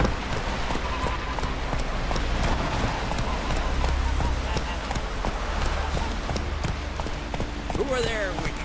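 Roach, Geralt's horse in The Witcher 3, gallops in a steady rapid clip-clop of hooves throughout, mixed with rain-like ambient noise while a voice speaks over it.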